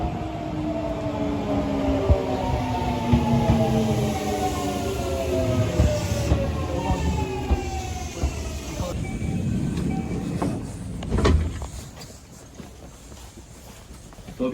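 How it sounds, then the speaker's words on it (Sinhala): An electric train pulls into a Japanese station with a long, falling motor whine and squealing brakes, then a sharp hiss of air as it stops, with faint voices and station bustle around it. "ඉතින් අපි බලන් ඉමු ට්‍රේන් එක එනවා"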